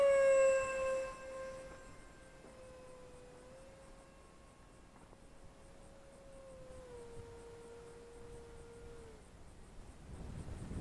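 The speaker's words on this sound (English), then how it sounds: "that one doesn't glide as well as the other EDF jets I've flown" A Zeta Ultra-Z Blaze EDF model jet with a 790mm wing flies overhead, its electric ducted fan giving a thin, steady whine that slowly drops in pitch and fades out after about nine seconds, with brief rustle at the end.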